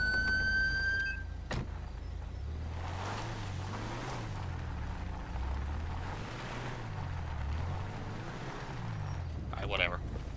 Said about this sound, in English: Let me go turn that trooper's siren off.